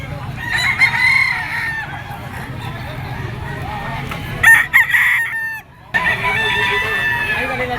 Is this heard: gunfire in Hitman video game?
no